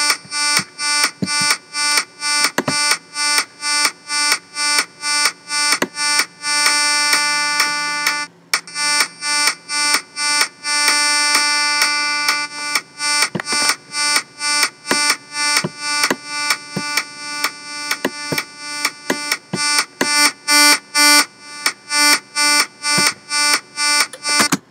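Sidechained synth in Reason, a bright sustained chord pumping rhythmically in steady ducking pulses driven by a kick on beats 1, 5, 9 and 13, loud and continuous throughout.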